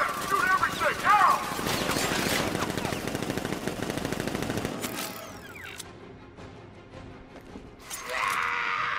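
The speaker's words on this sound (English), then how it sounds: "Open fire! Shoot everything!" Gunfire in the video game Batman: Arkham Knight, rapid machine-gun bursts in the first half over game voices and effects, fading into quieter ambience and a later whoosh.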